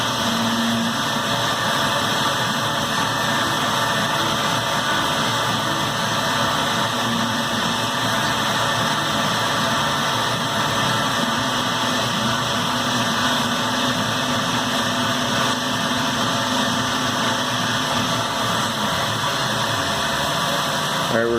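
A Tormach PCNC 770 CNC mill cuts while new feeds and speeds are tested, giving a loud, constant mechanical drone and whine that holds steady throughout, with no speech.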